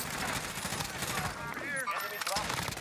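In the video game Warzone, rapid bursts of automatic gunfire crackle and stutter in quick succession, mixed with chattering game sounds and voices talking over the shooting.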